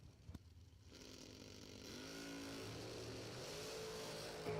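A drag racing dragster launches at a Southern Pennsylvania bracket race final round, its engine roaring loudly and steadily as it accelerates down the strip, with the sound building and rising in pitch toward the end.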